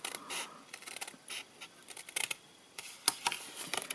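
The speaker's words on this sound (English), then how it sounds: "So I'm cutting with the score lines to the outside of my scissors." Scissors snipping through scored card for a handmade thank-you gift, a run of short crisp cuts at close range, quiet and irregular with small pauses between strokes.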